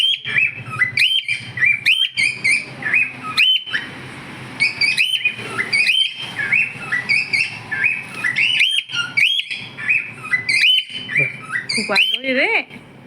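A bird chirps and squawks repeatedly at close range, sharp rising calls in quick bursts with short pauses between them.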